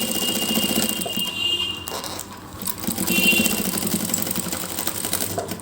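A sewing machine runs steadily, stitching a fabric strip onto paper, a continuous mechanical whir with a brief dip in the middle.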